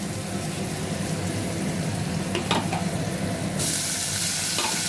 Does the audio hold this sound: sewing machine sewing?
no